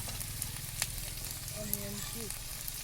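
Onion pieces frying in a pan for chilli chicken, giving a steady low sizzle with faint clinks and stirring; a voice briefly hums or speaks in the background.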